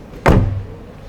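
A 2020 Honda HR-V car door shuts once with a solid, close thud, followed by a short decay into quiet.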